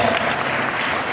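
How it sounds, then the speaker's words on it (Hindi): A brief moment of steady, dense crowd clapping fills an event hall as an audience applauds the management team at a corporate anniversary celebration. "एंटायर मैनेजमेंट टीम के लिए एक जोरदार ताली हो जानी चाहिए"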